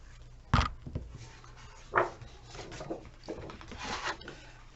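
Burnishing a folded paper piece for an accordion scrap-storage folder: a few soft, close rubbing and scraping strokes with brief taps, fairly quiet, with no talking.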